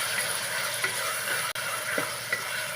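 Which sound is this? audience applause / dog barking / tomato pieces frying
tomato pieces frying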